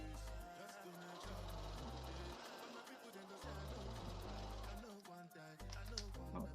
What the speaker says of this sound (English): We are sewing at a 1/2 inch seam allowance.